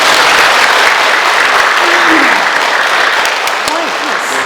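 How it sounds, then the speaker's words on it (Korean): A church congregation claps together for Jesus during an Easter Mass at a Korean Catholic parish in Las Vegas, the applause loud, dense and steady throughout, with a voice briefly heard over it. "모두 예수님께 박수!"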